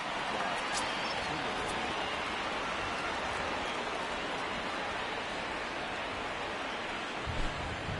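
Steady rain pours down on an open baseball field, a dense, even hiss of drops filling the whole stretch without letup, with no voices heard.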